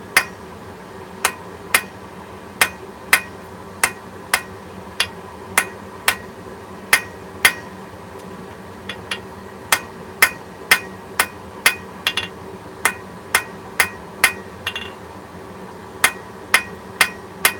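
Hammer blows ring on metal at an anvil while an even four-sided taper is forged, a steady series of sharp, bright clanks with brief pauses, close and loud and with no talk.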